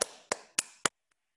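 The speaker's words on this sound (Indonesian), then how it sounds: "Tepuk tangan untuk Mbak Dinda." Four sharp claps spaced evenly, then two faint ones, ringing briefly in a quiet room during an online class lesson.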